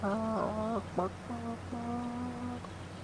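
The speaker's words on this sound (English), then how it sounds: "Hear those chickens going." Flock of about 170 chickens in the farm game Farming Simulator 25 clucking and squawking loudly up close, a steady chorus of repeated calls over a low hum.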